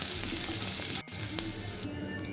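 Grated coconut roasts in coconut oil with a steady, close sizzle and faint stirring noises. The frying breaks off briefly for a moment and then carries on evenly.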